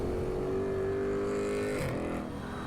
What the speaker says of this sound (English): So this is a Jeep Cherokee with a Hellcat engine in it.